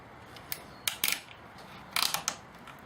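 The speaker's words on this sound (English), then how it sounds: "We're going to hold this down with some ties. Okay, some plastic ties." Plastic ties are fastened in a few short bursts of ratcheting clicks, close and crisp against a quiet background.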